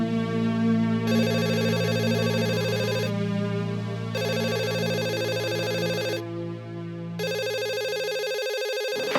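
A telephone rings in repeated electronic bursts, about four rings separated by short pauses, loud and close with no talking over it.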